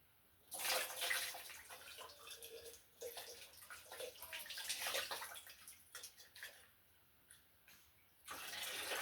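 Hot tap water runs in a home kitchen, splashing and gushing in uneven bursts before briefly easing off and then starting up again.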